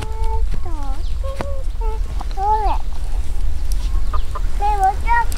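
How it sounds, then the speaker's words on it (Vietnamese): Farm chickens cluck in short bursts and rising calls at close range over a low background rumble, with a few pauses between the calls. "Con gà ngủ chưa, tí nữa mình bắt con gà để thịt mới được."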